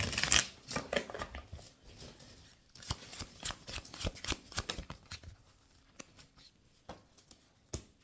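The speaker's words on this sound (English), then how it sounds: "One more shuffle" Tarot cards are shuffled in a series of quick, crisp riffles and soft slaps, close and fairly quiet, with short pauses between bursts.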